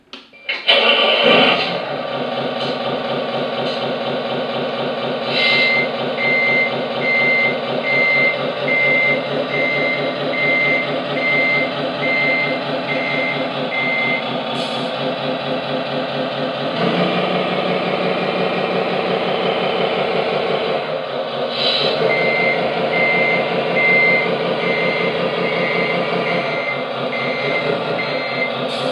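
Servonaut sound module in a Tamiya 6x4 RC truck, a synthetic diesel engine starting up and idling with a steady rumble, revving at times, with a repeating reversing beep in two stretches, loud and close.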